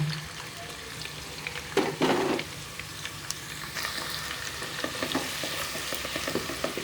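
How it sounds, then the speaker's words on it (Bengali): A cup of onions fries in three tablespoons of oil in a pan until reddish, a steady close sizzle with crackles and a few louder bursts as they are stirred. "তিন টেবিল চামচ তেল দিয়ে এক কাপ পেঁয়াজ লাল করে ভেজে নেব"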